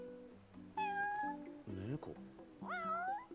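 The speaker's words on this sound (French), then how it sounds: "Que serait-ce? Un chat?" A cat in Final Fantasy XV meows several times in quick succession, close and clear, with some drawn-out, rising cries over a low background.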